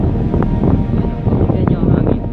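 Strong wind buffets a mountain campsite during motorcycle camping, a steady loud broadband roar with gusty surges and rustle throughout, close on the microphone, with a voice talking over it.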